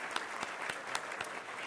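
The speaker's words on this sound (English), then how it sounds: "Let's give all of our partners another round of applause." Audience applause at a business luncheon benefiting a college scholarship fund, a steady wash of clapping with a few sharper individual claps standing out, fairly faint and distant.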